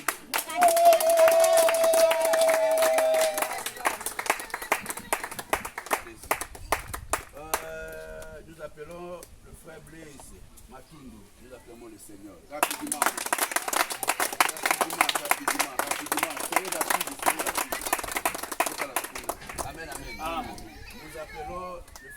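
A church congregation at an evangelism mission claps in steady rhythm to acclaim the Lord, loud and continuous, with a pause in the middle before the clapping swells again, mixed with voices and music.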